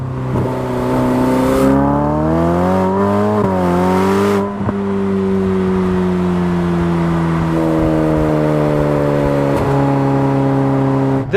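A Ferrari F8 accelerates hard at about half throttle, its engine note rising loud and close through a gear change, then a long steady pull as it climbs again.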